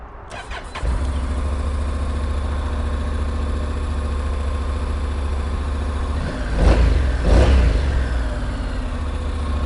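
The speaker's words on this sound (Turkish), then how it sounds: "İlk marşa basayım." A new motorcycle engine cranks and catches, then settles into a loud, steady idle close by, with two brief throttle blips toward the end.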